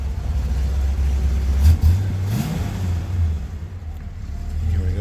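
A 1972 Ford Gran Torino Sport, carbureted with a choke, idles with a steady low rumble and gives a couple of brief blips of the throttle partway through, loud and close, with no talking.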